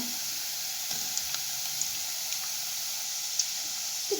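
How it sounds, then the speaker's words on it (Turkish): Pre-browned, vacuum-packed minced meat added to sautéed onions in a pot gives a steady, fairly quiet sizzling hiss with a few faint ticks and pops throughout, no voices. "Kavrulan soğanımızın içerisine daha önceden kavrulmuş, vakumlanmış kıymamı ekliyorum."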